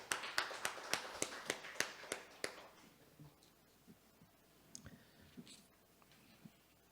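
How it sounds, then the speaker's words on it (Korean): A church congregation in Naju claps together in a brisk, even rhythm of about ten sharp beats, then falls away to scattered soft taps and room noise. "우리 주님께 영광의 박수를 드리겠습니다"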